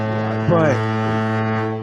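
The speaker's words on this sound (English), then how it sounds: "you get the foghorn" A foghorn blast holds one steady, deep droning tone for nearly two seconds at a loud, constant level, briefly overlapped by a short vocal sound near the start and tapering slightly at the end.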